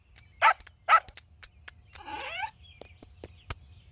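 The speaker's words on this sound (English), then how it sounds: "Flanders got a new dog." Two sharp, close dog barks from a Simpsons cartoon scene, followed by a softer growling or whining sound and a few scattered clicks.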